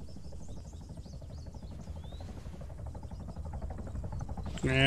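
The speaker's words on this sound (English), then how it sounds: "I think I hear a chopper." A helicopter in the Arma 3 military game approaches with a pulsing rotor thump, a steady chop that grows slightly louder toward the end, with no talking.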